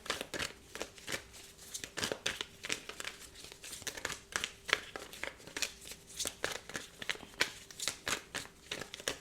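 Tarot cards shuffled by hand close up, steady repeated papery riffles and crinkly slaps in a quick rhythm throughout, no talking.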